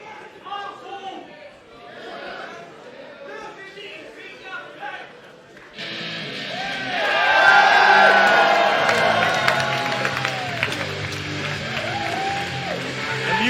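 Sold-out wrestling crowd of about 500 at a Marty Scurll versus Ricochet event, quieter chatter and speech that erupts into loud cheering and whooping, staying raucous as music plays and people talk over it.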